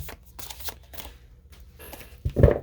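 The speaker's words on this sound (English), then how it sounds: "We got to get in a good shuffle, right?" A deck of tarot cards is shuffled by hand in a quiet room: soft riffling and sliding bursts through the first part, then a louder, close flurry of card slaps near the end.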